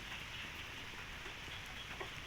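Steady rain falling on a goat farm in Thailand, a soft even hiss of drops with occasional louder patters, fairly faint and continuous throughout with no voices.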